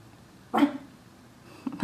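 A pet dog barking indoors in the background during a home drawing session, two faint, distant barks about a second apart, with no talk.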